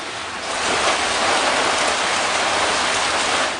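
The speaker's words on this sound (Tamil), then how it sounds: "பொள்ளாச்சி, மேட்டுப்பாளையம் உள்ளிட்ட பகுதிகளிலும் கோடை மழை பெய்தது." Summer rain falling in the Pollachi and Mettupalayam area, a steady, dense broadband hiss that holds constant for several seconds without voices.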